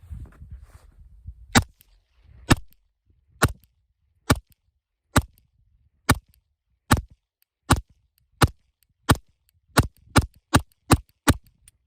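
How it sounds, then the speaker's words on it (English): Sharp, loud gunshots from a custom PSA Dagger pistol with a threaded barrel, about fourteen reports fired outdoors, spaced at first and then quickening into a fast string. "First shots with the custom PSA Dagger here."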